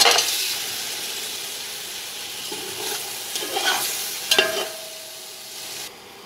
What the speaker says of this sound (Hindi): अब मैं इसमें ये गोश्त शामिल करूँगी और ज़रा सा भून लूँगी इसे